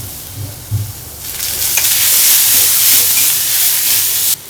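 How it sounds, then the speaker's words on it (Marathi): Onion roasting in a little oil on a hot griddle: a couple of soft knocks, then a loud, steady hiss and sizzle that builds and holds close up before ending abruptly. "आता तवा गरम झालेला आहे आता आपण तो कांदा भाजून घेऊ"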